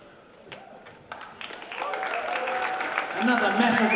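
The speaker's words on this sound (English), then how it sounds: "Another massive round of applause for our 2024 A Boys Secondary School National Champions, Aquinas College." Crowd at a secondary schools national basketball championship applauding the boys' champions, Aquinas College, with claps building from sparse to a dense, loud ovation mixed with cheering in an indoor court.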